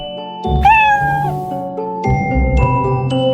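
A cat meows loudly and close, one drawn-out rising call followed by a second shorter meow, over a faint backing tune from a children's alphabet song.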